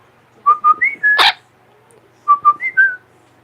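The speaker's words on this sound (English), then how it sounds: "Is that the treat whistle?" A pet bird whistles a short rising-and-falling treat tune twice, each phrase a quick run of bright close notes with a brief pause between; no talking.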